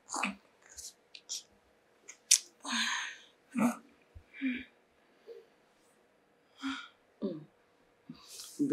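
A woman sneezes sharply amid scattered breathy whispers and sniffs in a quiet indoor church scene, with the sneeze standing out as a brief loud burst between softer vocal sounds.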